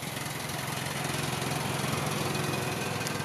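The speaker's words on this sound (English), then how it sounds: "exhaust rattle there" A 1982 Subaru Sambar 4WD truck sits idling with a steady, close engine drone and a faint metallic exhaust rattle running evenly underneath, with no voices.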